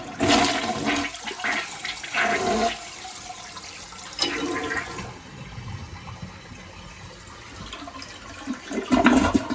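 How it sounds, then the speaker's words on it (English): A toilet being tested for a mystery leak flushes with a loud rush of water, then swirls and gurgles as the bowl drains and refills, close up. "I'm gonna let this refill and then we'll flush and see what happens"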